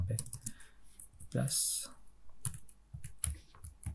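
Computer keyboard typing while entering Java code, heard as clusters of quick clicks and taps mixed with a man's intermittent speech.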